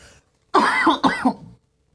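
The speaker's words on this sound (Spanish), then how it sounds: "Y sigo tosiendo, men." Two quick harsh coughs or throat-clearing bursts sound close up, back to back, followed by silence.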